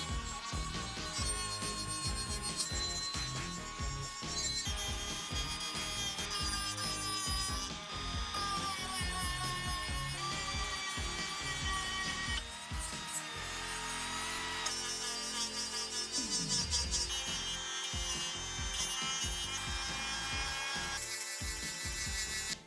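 A rotary sanding tool whines and buzzes in continuous, shifting bursts against antique padlock parts, close by and with no one speaking.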